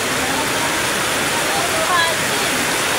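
Heavy rain pours down hard outdoors, a steady hissing wash of water with a faint whistle-like tone briefly cutting through near the end.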